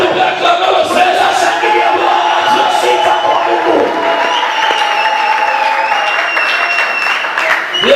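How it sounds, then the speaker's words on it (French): A church congregation at a French-language service cheers and applauds loudly and continuously, dense clapping mixed with voices shouting and ringing tones, close and sustained throughout. "Laissez-nous bien acclamer le Seigneur."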